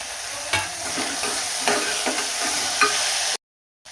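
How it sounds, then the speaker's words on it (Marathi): Onion masala sautéing and being stirred in a pan on the gas for Maharashtrian masale bhaat, a steady close sizzle broken by scraping stirs, cutting off abruptly near the end. "म्हणजे कांदा वगैरे छान परतून घ्यायचा."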